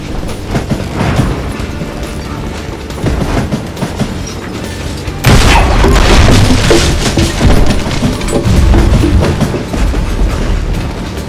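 A train rolls along in the Western shooter Call of Juarez: Gunslinger, with steady heavy rumble and clatter that swells louder midway and stays loud, no voices.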